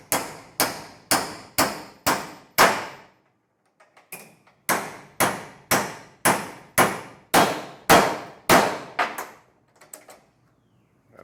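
A hammer strikes a steel piece, bending it cold while the piece is held in a hole. There are two loud, close runs of evenly spaced metallic blows, six and then eight, separated by a short pause.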